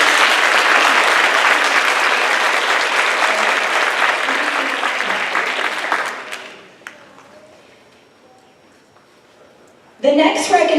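An audience at a Bernards Township school board meeting claps for Ridge High School's top-scoring students. Loud sustained applause fades out after about six seconds, leaving near silence before a voice starts speaking at the end.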